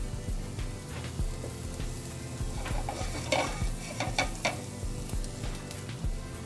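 Ribeye steak sizzles on a hot grill with a steady, soft crackling hiss, broken by occasional clicks and scrapes of handling.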